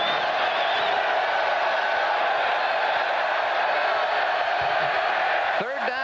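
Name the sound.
football crowd at Kyle Field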